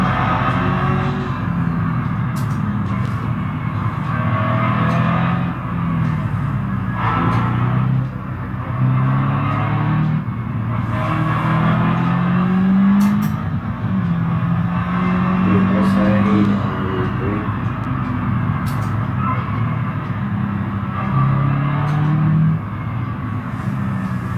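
Simulated engine of a Hirochi Sunburst RS in a driving-sim video game, a steady close drone with pitch rising and falling through shifts and corners, continuous and fairly loud for the whole stretch.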